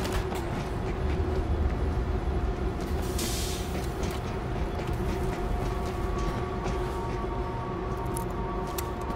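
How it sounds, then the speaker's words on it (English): Train rolling along the tracks in the zombie shooter World War Z, a steady rumbling, rattling wagon noise with a burst of hissing brake air partway through, loud and continuous. "I'm backing the train up a little to give it some room."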